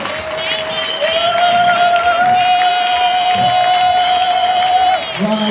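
A church congregation claps and acclaims the Lord, a broad wash of applause and crowd noise under a sustained, ringing tone that holds for several seconds.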